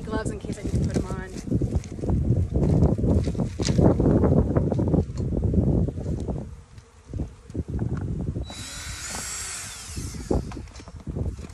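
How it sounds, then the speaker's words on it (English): Honey bees buzzing around a backyard hive during an April spring inspection, a steady dense hum close by, with a brief higher whine partway through and no speech. "I'm just watching them right now and it is just magic seeing how many bees are flying"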